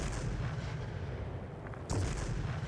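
Ta 152 fighter cannons in World of Warplanes fire a steady stream of heavy, rumbling bursts over engine drone, with a sharper punch near the end, loud and continuous with no talk.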